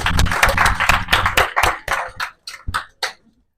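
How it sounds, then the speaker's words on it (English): Brief scattered clapping in a lecture hall, several hands striking at once before thinning to a few isolated claps and fading to silence. "Round of applause."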